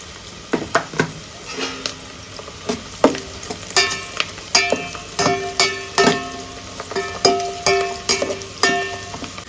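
Onions sizzle steadily in oil in a pan, broken by repeated sharp clicks and scrapes of stirring, fairly close, with no voices.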